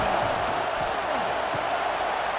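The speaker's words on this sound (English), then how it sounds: "Listen to the crowd energy here in the early going." Steady roar of a stadium crowd in EA Sports College Football 26, South Carolina hosting Florida, a dense continuous wash of cheering noise with faint murmurs and no clear talk on top.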